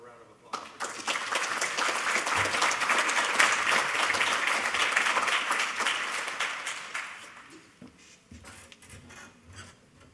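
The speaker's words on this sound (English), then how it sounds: "how about a round of applause?" Applause from a seated audience at a marine minerals exploration panel, a dense sustained patter of many hands that swells, holds for several seconds, then thins out and fades as the room settles.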